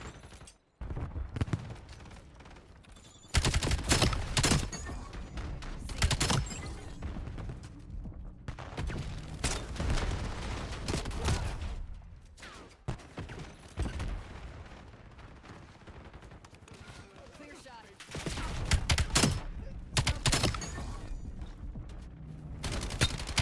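Gunfire in a shooter video game, with the player being sniped. Bursts of loud shots and sharp cracks come in clusters, separated by quieter gaps, and there is no talk.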